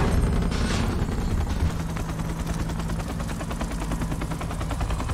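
Rapid automatic rifle fire from an M4 "1776" variant in the video game Modern Warfare, during a Ground War match, sounding as a dense, continuous stream of gunshots with scattered battlefield noise behind it.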